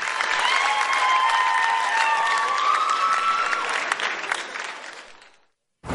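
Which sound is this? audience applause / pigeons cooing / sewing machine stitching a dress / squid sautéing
audience applause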